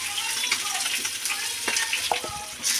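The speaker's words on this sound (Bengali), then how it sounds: "এক পিঠ লাল লাল করে ভাজা হয়েছে, আর এক পিঠ ভাজবো" Pieces of live rohu fish sizzle in hot oil in a pan, a close, continuous crackle with small pops and a few light stirring clicks.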